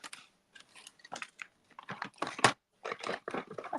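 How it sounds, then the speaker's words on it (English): Scissors fussy-cutting stamped paper for a handmade thank-you card, heard as close, crisp snips and crunches in short irregular bursts separated by brief pauses. "Find some scissors to fussy cut."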